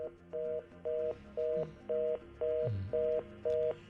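A telephone line sounds its tone in a steady series of short, evenly spaced beeps, about eight pulses in four seconds, with a faint low murmur underneath.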